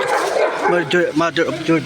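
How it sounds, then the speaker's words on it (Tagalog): A large dog barks several times close by on a walking route up to the Mother of Georgia statue, giving a quick run of loud, throaty barks and yips. "kinabahan ako, tatakot ako dun sa aso nang yon. Ang laki pa naman ng asong yon."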